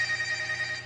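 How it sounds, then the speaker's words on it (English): Mobile phone ringing during a microbiology lecture, a short steady electronic tone pulsing in a quick regular pattern, moderately loud and heard alone. "my phone's ringing"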